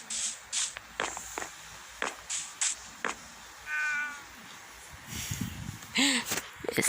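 A tamed ocelot cat in a survival video game gives several short meows amid soft footsteps and shuffling, with a voice talking over part of it.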